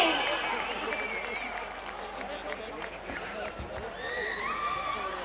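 Applause from the audience at the MIT Utkarsh 2022 college cultural fest, a broad steady wash of clapping mixed with crowd noise and cheering, with voices audible throughout.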